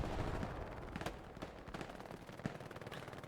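Gunfire in the video game Hell Let Loose during a night match on Foy, heard as faint, distant bursts of rapid shots and scattered single cracks under a steady low rumble.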